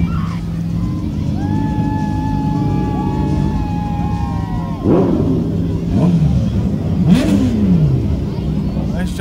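Cars in a Halloween parade in Rutland rev and rumble in a low, throbbing drone, with a rising siren-like wail early on and voices and crowd noise mixed in.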